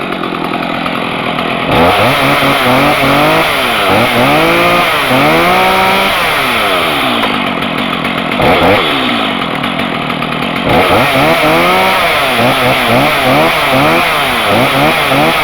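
A Stihl chainsaw, just cold-started, runs loud and close, its engine revving up and dropping back in repeated swells between a rough idle, with no voices over it.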